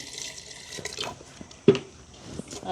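Water is poured into a pot of yam pieces set to boil, a close splashing pour with a brief sharper slosh partway through, fairly quiet overall, with no talking.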